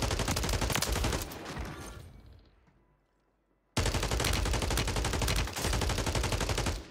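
Loud, dense gunfire in the video game Warzone: rapid volleys crackle for about two seconds, fade into a near-silent gap, then burst back in sustained and heavy, with one brief dip, to the end.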